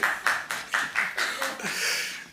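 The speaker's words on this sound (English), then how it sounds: "All right, you can applaud for that one if you want." Audience applause at a Burbank city council meeting: a run of evenly spaced claps that swells into a steady, fuller wash of clapping from a crowd in a chamber.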